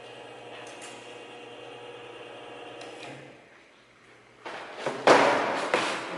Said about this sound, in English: I'm gonna take screws out.